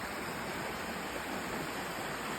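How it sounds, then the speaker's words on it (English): A small river runs through Garmisch town in the Bavarian Alps, giving a steady, even rush of flowing water close by with no break and no voices. "Lori and I found the little river through the town"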